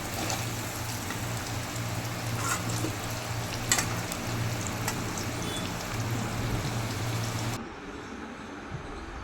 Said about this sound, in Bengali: আলুগুলো আমার হালকা লালচে করে ভাজা হয়ে গেছে, এবার আমি একটা পাত্রে তুলে নিচ্ছি